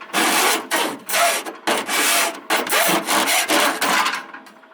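A hand file rasping across metal for an oven project, a close, loud run of about a dozen rhythmic strokes with brief gaps between them and no talking.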